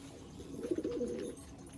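Desi and large kagji pigeons give a low, soft cooing phrase, faint and somewhat distant over a steady background hum.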